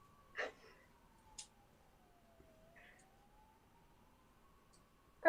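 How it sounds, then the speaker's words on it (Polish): An emergency siren wails faintly in the distance, one long tone that drifts slowly down and back up, with a few brief scattered noises nearby in an otherwise quiet room. "u ciebie chyba karetka jedzie"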